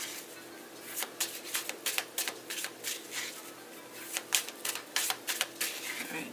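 A deck of tarot cards being shuffled close up, a quick run of crisp riffling bursts and soft card slaps coming in bunches over about six seconds, with no talking.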